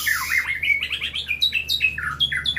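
A long-tailed songbird sings close and loud, a quick run of bright, sweeping chirps and whistles rising and falling in rapid succession.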